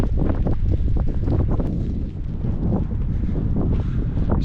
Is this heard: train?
no